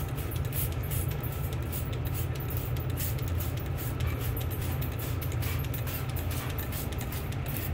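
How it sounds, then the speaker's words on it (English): Odor remover is sprayed liberally onto a home heating oil spill on wooden framing, giving a steady, continuous hiss for several seconds at close range. "I'm going to spray it liberally"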